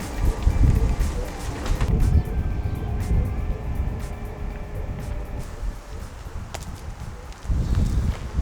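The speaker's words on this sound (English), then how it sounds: "It's windy, it's cold" Wind gusts across a state park campsite, rising and falling in low rumbling bursts against the microphone, with faint rustling and soft background sounds, louder at the start and end.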